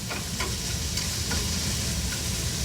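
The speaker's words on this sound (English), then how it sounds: "I'm going to go ahead and give these a stir really quick." Chicken and vegetables sizzle steadily in a frying pan while being stirred, with a continuous close hiss and a few faint utensil scrapes throughout.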